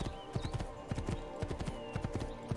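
Horse hooves clip-clop in quick, steady rhythm during a ride in Assassin's Creed II, with a brisk gallop-like pattern of close, distinct hoof strikes over quiet game ambience.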